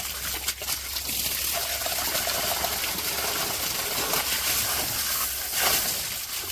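Water running from a hose into a drum on a banana farm, a continuous splashing gush with trickling and sloshing close by, swelling briefly near the end.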